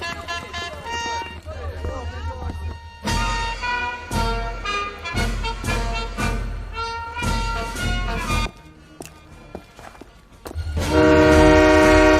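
A departing gold train sounds its horn in loud, blaring blasts within a tense film scene, mixed with dramatic music and voices.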